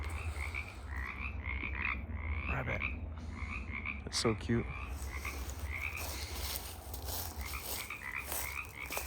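Frogs croaking outdoors in a steady, repeated rhythmic chorus of short calls at moderate distance over a low background hum, with a person talking briefly partway through.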